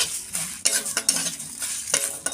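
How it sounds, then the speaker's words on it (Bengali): Whole coriander and spices fry in a pan for aloo paratha, with crackling sizzle and frequent scraping, clinking stirs of a utensil in a close, busy rhythm. "গোটা ধনে, মশলাটা আবার ভালো করে ভেজে নেব।"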